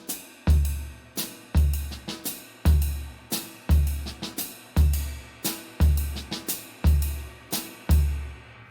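A jazz swing pattern is played on a drum kit with a triplet figure, giving a clean, steady, repeating groove of punchy kick and snare hits under ride and cymbal accents, close and alone without any voice.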